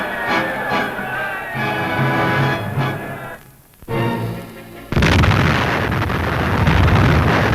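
Grenade explosions break up the river ice on the Vistula in Poland, with heavy booms and rumbling blasts, then a sudden loud roar of bursting ice and spray that continues, on an old newsreel soundtrack.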